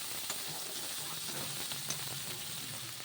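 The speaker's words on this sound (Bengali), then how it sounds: "লবণ আর পরিমাণ মতন হলুদ দিয়ে আবার মশলাটাকে নেড়ে চেড়ে ভালো করে কষিয়ে নেব।" Spice paste seasoned with salt and turmeric sizzles steadily in hot oil for a curry of mutton and papaya, with faint scrapes of stirring over a continuous close frying hiss and no talking.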